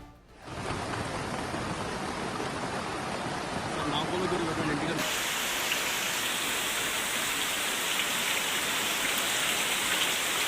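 Heavy rainfall in Srisailam, a continuous loud wash of rain drumming on surfaces, its character shifting abruptly midway to a brighter, sharper hiss, steady throughout without voices.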